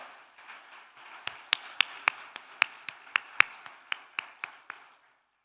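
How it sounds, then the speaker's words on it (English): Sparse, evenly spaced claps ring out at a ceremony honouring Kargil war veterans, with about fifteen sharp, fairly faint hand claps in a slow steady rhythm before fading into quiet. "I want to hear loud applause from the floor"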